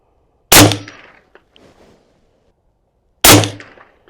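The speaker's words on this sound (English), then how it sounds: "Let me shoot the right side bullseye now." Two sharp AR-15 rifle shots crack at a range target several seconds apart, each loud and abrupt with a short fading echo and quiet between.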